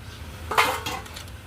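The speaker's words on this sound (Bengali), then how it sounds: "এবার আমি দিয়ে দেবো এর মধ্যে মুগের ডালটা" Mung dal tipped into a hot pan of tempering spices and fried, giving a short clatter of metal and grains around a spoon scrape, with a faint sizzle underneath and no voices.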